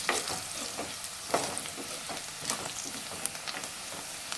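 Chicken with turmeric is stirred in a hot pan. A soft, steady sizzle runs under repeated scraping strokes of a spoon at a moderate pace, faint and close, with no talk.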